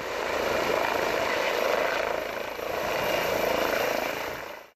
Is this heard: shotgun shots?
no